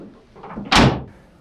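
A 2022-2024 Ford Maverick tailgate with a newly fitted assist strut swings open and settles with one brief, muffled thump-like rush, without a hard slam. Quieter rustling comes before it.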